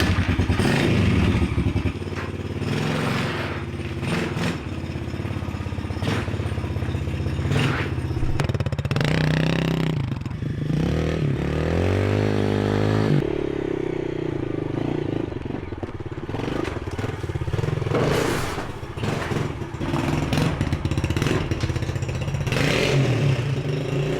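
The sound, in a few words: motorbike fitted with cheap diesel engine riding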